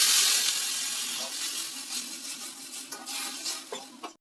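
Water hits a pan of frying ginger-garlic masala with a loud initial hiss that fades into a steady simmering sizzle, punctuated by a few clinks and scrapes of a utensil against the pan near the end.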